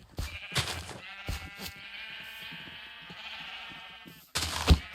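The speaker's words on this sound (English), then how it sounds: "Damn, sheep's escaping all the time." Sheep bleat repeatedly in a Minecraft farm, the wavering game calls close and clear, with a sustained bleat in the middle and sharper bursts at the start and end.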